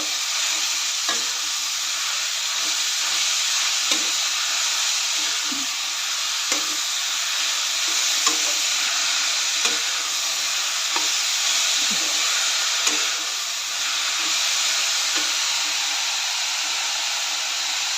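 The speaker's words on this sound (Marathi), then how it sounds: "आपण बारीक चिरून घेतलेलं पालक यामध्ये घालायचं आहे सर्व घालून चांगलं परतून घ्यायचं आहे" Finely chopped spinach stir-frying in a pan, a loud steady sizzling hiss throughout with light, regularly spaced taps and scrapes of a spoon stirring; no voices.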